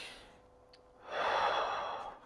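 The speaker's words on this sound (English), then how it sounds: "Now only breathe through your belly." A slow Tai Chi belly breath sounds close up: a soft, faint intake, then one long, breathy exhale that swells and fades, with no talk.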